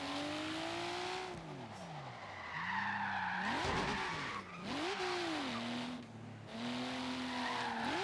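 A Volvo 850R slides through drift attempts, its tires squealing in long wavering howls while the engine revs rise and fall, several bursts close by with brief gaps between them.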